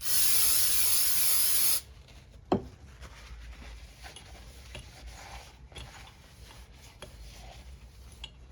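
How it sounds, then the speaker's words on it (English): Aerosol brake cleaner sprays in one loud, steady hissing burst of about two seconds while a Polaris Ranger 900XP's brake pad is being cleaned, followed by a sharp knock and quiet handling noises. "So I'm gonna spray some brake cleaner on that and spray some brake cleaner on this pad."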